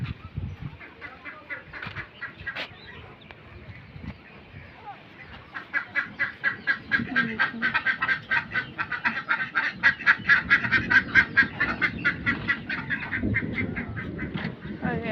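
Chickens clucking while eating, in a busy, rapid stream that grows louder and denser halfway through, with scattered rustling and faint background noise.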